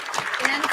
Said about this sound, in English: Quick round of applause to ladies on the panel